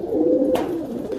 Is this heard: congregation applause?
no